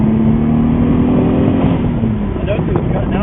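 Car with Joe at the wheel on a drive during boost testing, engine droning steadily with a low rumble and some rising rev under it throughout, close and moderately loud, with speech mixed in.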